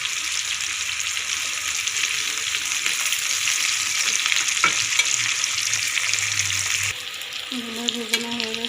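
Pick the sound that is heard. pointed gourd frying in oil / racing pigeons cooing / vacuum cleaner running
pointed gourd frying in oil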